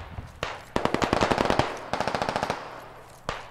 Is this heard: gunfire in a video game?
yes